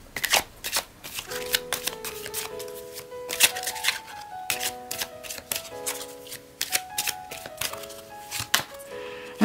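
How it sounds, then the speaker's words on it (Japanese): Oracle cards being shuffled and drawn, a dense run of crisp riffling taps and flicks at close range over soft background music, with no talk. "最後にオラクルカードも引きたいと思います"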